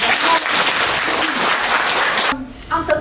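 An audience at a Romanian school class book event claps steadily and loudly for about two and a half seconds, then the applause thins and breaks off with a few scattered claps and faint voices.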